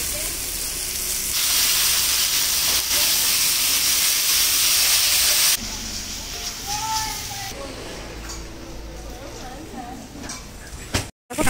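Meat hitting a hot pan of fried spices sizzles loudly with a steady, broad hiss for several seconds, then quietens as stirring continues and background voices and clatter come through.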